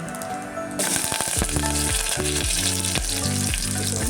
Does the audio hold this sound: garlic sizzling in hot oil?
yes